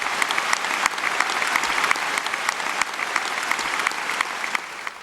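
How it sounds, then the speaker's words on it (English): Audience at the Labour Party conference breaking into steady, dense applause that holds loud and even for several seconds before starting to taper off. "Applause showing that many here had been waiting for that."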